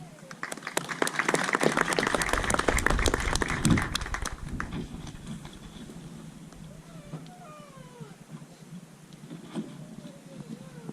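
Audience at a school graduation claps, a dense burst of applause for the first few seconds that fades into quieter room sound with a voice speaking faintly afterward.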